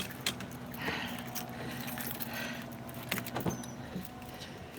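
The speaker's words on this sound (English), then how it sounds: "Okay, keys." Keys jingle in short clinking bursts on a wet beach boardwalk, faint against a steady outdoor background.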